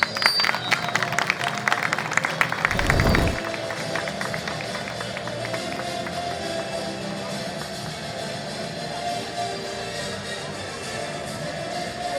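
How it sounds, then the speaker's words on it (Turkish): An audience at a school graduation ceremony claps steadily. The applause is loud and dense at first, then thins into sustained crowd clapping that carries on to the end. "Coşkulu alkışlarımızla sevgili mezunlarımızı sınıf sınıf sahneye davet ediyoruz."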